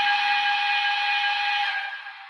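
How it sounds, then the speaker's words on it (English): A shrill, high-pitched steam whistle blows continuously and loud, holding one tone before fading slightly at the end. "What a high-pitched whistle."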